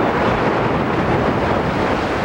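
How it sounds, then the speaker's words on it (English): Pounding ocean waves at Avila Beach, California: a loud, steady wash of surf with gusty wind noise on the microphone, continuous, with no voices. "The sound of the pounding waves has serenaded the people of tiny Avila Beach, California for some 100 years"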